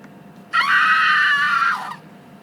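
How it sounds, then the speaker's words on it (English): A woman's long, high-pitched scream rises suddenly, holds steady for over a second, then trails off, loud and alone against a quiet background. "she hears a terrible scream"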